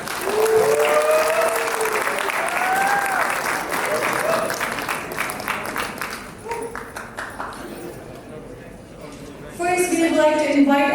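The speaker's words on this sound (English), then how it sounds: "Round of applause, please." An audience at the Himalaya Airlines 10th anniversary celebration gives loud, sustained applause that tapers off. A voice speaks over it and again at the end.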